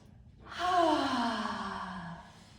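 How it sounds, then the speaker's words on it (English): A single long, audible sigh-like exhale is taken during a yoga flow. It starts suddenly, holds steady and softly voiced for about two seconds, then fades away, close to the mic and quiet. "Take a cleansing breath."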